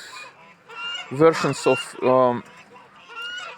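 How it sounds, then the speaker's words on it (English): Geese kept beside a chicken tractor honk loudly and close by in several harsh bursts, with a person talking faintly beneath them. "Now you see two geese are sitting there."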